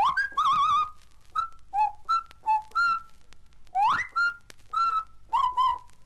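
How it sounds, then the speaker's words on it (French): A person whistles a French Foreign Legion assembly bugle call in a stage performance, clear piercing phrases in short bursts with gaps between them, close and alone. "tu vas d'abord nous siffler le rassemblement dans la cour"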